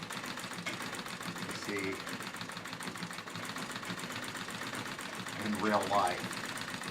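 A treadle sewing machine quilting through denim runs as a steady, faint mechanical hum with fine rhythmic stitching ticks throughout, while someone talks over it.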